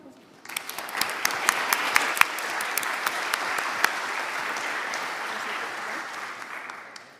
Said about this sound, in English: So we can applaud all the speakers again.